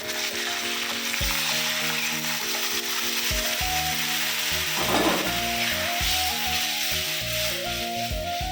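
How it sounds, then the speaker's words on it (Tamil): Tamarind water pours into a hot pan of fish curry base, setting off loud, sustained sizzling and bubbling, with a brief burst of sputtering midway and a low hum throughout. "இப்போ நம்ம கரைச்ச புளி தண்ணி மாங்கத்தை ஊற்றணும்."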